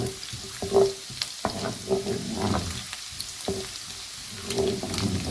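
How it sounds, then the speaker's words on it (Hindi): Garlic sizzles in hot oil in a karahi for a dhaba-style Balochi chicken karahi, a steady crackling fry broken by intermittent stirring scrapes and clinks, close and moderately loud with no talking. "लहसुन को ज़रा सा हल्का सा ब्राउन करेंगे।"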